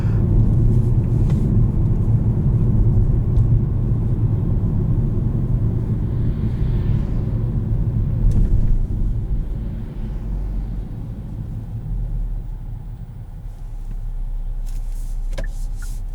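A 2021 Kia Seltos SX rolls along a road, its steady low road rumble and tire noise filling the cabin continuously, dipping slightly partway through as it goes over a bump.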